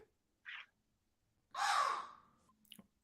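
A person imitates a crow, giving a short nasal caw followed by a longer, louder, raspy caw, close and alone against silence.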